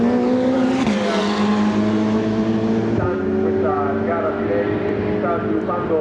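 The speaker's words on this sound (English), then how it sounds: "Fabio Lima winds on the throttle now to give it absolutely everything he can to try and reel in Philip Barron" A Ferrari Challenge race car at Monza wound up to full throttle, its loud high engine note climbing steadily through the gears with a brief dip at an upshift, while a commentator talks over it.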